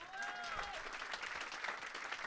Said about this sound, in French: Ça s'applaudit, ça, déjà